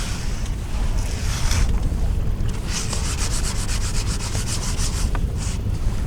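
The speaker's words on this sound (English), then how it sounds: "I'm sweeping up all the messes here that Matt keeps making with all the sanding" A broom sweeps sanding dust and debris across a boat deck being prepped for paint, giving steady scratchy strokes that turn quicker and more rhythmic midway, close and continuous with no talking.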